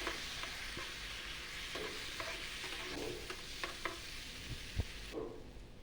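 Aloo masala with ground dry coconut powder is stirred in a hot pan, giving a steady sizzle broken by soft scraping and light knocks of the spoon, close and unaccompanied by talk.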